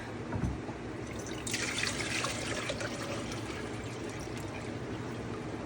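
Water pours steadily into a container, a continuous rushing splash close by that grows a little brighter partway through.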